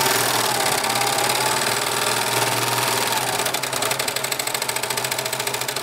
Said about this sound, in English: Here's my serger demonstration.